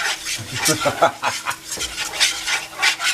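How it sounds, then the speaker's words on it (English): Milk being stirred into a roux to make gravy, with repeated scraping, swishing strokes close up, fairly loud and steady throughout. "You got to stir. That's how the gravy forms."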